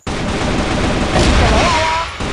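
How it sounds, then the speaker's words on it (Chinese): A grenade blast and a burst of gunfire in a video game, a loud dense crackling roar lasting about two seconds that ends abruptly. "手雷来了"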